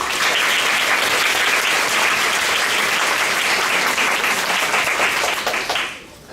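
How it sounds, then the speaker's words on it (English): Conference audience at a data science talk in Taipei applauding a speaker, dense continuous clapping filling the room, loud and steady before fading out sharply at the end. "let's give Elvena a warm applause."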